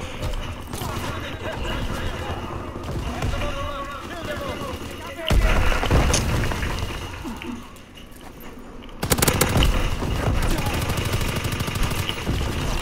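Enemy gunfire in Call of Duty: WWII, bursts of shots and heavy fire rattling through the game mix with loud jumps in intensity, running under excited player talk.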